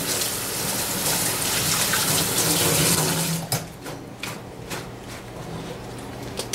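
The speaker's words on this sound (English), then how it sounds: "So with my romaine lettuce, I like to rinse them off, like you do if you're going to eat it" Tap water runs hard over romaine lettuce leaves in a sink, a loud steady splashing hiss for about three seconds that then cuts off, leaving scattered drips and small trickles; no one speaks.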